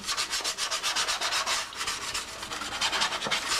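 Steady, rapid back-and-forth rasp of a sanding block scrubbing the surface of a Yamaha FZR motorcycle fairing brace, close and even in rhythm, with no voices.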